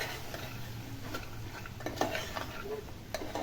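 A spoon stirs fresh lima beans through a thin curry in a pot, giving faint scraping and soft clinks against the metal over a low background hum.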